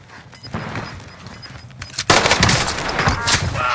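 Gunfire in Call of Duty: Warzone on Rebirth Island, sparse shots at first, then a dense burst of rapid automatic fire erupting about halfway through and continuing loud to the end.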